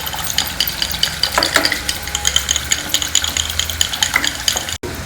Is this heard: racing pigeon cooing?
no